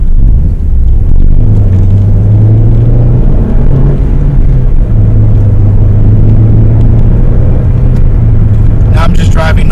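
Engine of a manual-transmission car rev matching during a downshift from fourth to third gear at about 45–50 mph: a steady loud rumble with a rising drone of revs, heard from inside the cabin under continuous road noise.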